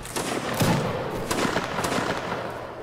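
Musket volleys in Mount & Blade: Warband Napoleonic Wars, a line battle, with a ragged series of sharp cracks and pops spread across a few seconds, some near and some distant.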